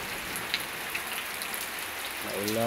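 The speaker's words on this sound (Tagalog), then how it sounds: "So kanina pa itong mga alas 4 umulan, alas 4:30." Steady rainfall patters on surfaces outdoors in a wet neighbourhood, a soft continuous hiss with scattered drops and a faint voice rising at the end.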